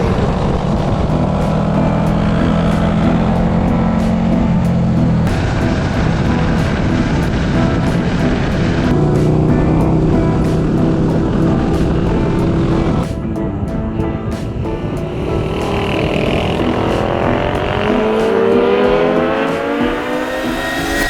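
Racing motorcycle engines roar loudly and continuously at close range at Donington racetrack, with high revving whines rising and falling as machines speed past.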